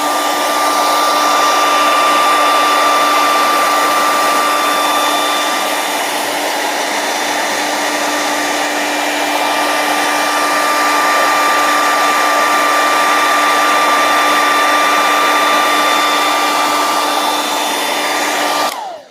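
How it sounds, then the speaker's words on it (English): A hair dryer blows steadily and loudly at close range, heating the adhesive on an LG Velvet's back glass cover, a constant whooshing roar with a high whine that runs unbroken until it cuts off. "you're just going to get that hairdryer out"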